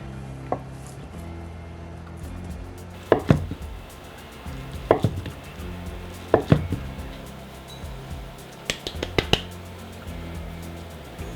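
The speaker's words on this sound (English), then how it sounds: "In order to make the tofu work as steak, we need to cut it into thin strips." A knife slices tofu into thin strips on a cutting board, sounding as clustered taps of the blade against the board, close and distinct over a low background hum.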